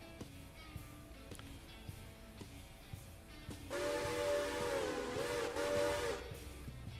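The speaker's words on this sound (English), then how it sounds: "I feel like that's too meaty of a whistle." Steam locomotive whistle from the modded Railroader train game, over a low rumble of hissing steam and rail noise. A steady, full, moderately loud whistle blast sounds for about two and a half seconds in the middle.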